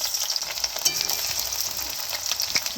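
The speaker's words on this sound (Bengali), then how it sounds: "সব আমি তেলের মধ্যে একটু আলিয়ে নেব।" Chopped onion sizzles briskly in hot oil, a dense close frying hiss with small crackles throughout.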